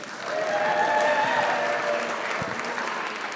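A crowd at a tattoo event applauds steadily, a broad wash of clapping heard from a moderate distance, with a faint tonal hum running beneath it.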